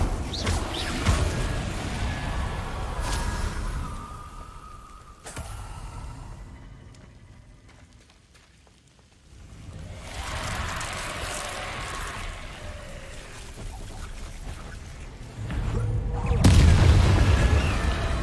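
Spell effects in the video game Hogwarts Legacy, including Descendo, sound as deep booming impacts and whooshing bursts, loud and roomy, rising and fading with a quieter lull in the middle.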